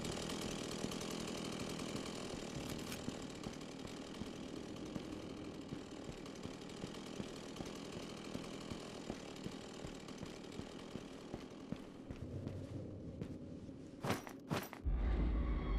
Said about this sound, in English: Except for ignore that chainsaw.